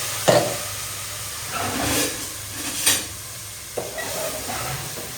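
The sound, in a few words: tomato gravy added to sizzling asafoetida and ginger in pan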